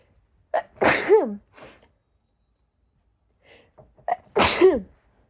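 One person sneezes twice, close to the microphone: a sharp, throaty sneeze with a short inhale before it, a pause of a few seconds with light breaths, then a second sneeze just like the first.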